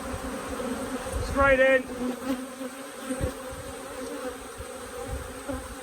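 Honey bees buzz steadily while frames are shaken out during a brood break for varroa control, a dense insect hum with a brief louder swell and a short spoken phrase over it.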